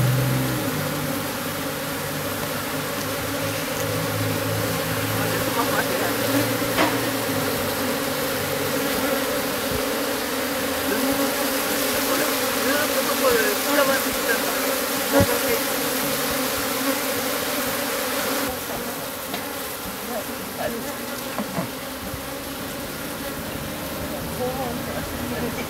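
Japanese honeybees buzz around a bait hive set out in a home garden, a constant close drone of many wings, with quiet speech and other soft background noise mixed in.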